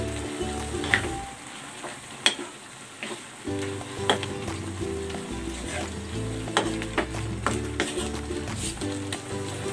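Shrimp sizzle and fry in a pan with chopped bottle gourd, a steady crackle broken by sharp stirring scrapes and clinks of the utensil against the pan.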